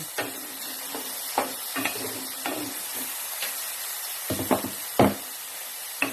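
Onions sauté in a pan for caldereta, a steady soft sizzle broken by scattered knocks and scrapes of a spoon stirring against the pan, close and without talk.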